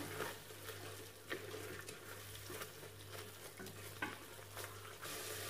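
Masala frying in a pan is stirred, producing a faint, steady sizzle broken by soft scraping strokes and light clinks of the utensil against the pan, with no speech.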